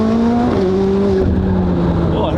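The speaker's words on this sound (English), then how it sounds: "there's just a lot of wheel spin because we still have kind of cold tires" A supercar's tires spin on cold rubber as the engine holds a loud, steady drone whose pitch shifts slightly, heard close up with people talking briefly underneath.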